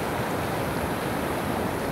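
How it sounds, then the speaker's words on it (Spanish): A swollen, high river rushes past in a steady, dense roar of churning water, constant and close with no voices over it. "Pero va bien crecido el río."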